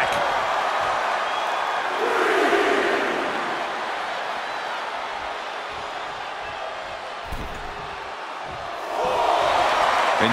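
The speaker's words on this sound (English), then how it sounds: "And Jey is channeling the energy of this crowd." Arena crowd noise from a WWE 2K24 wrestling match, a steady broadband roar of cheering that swells near the start and again at the end, with no commentary heard.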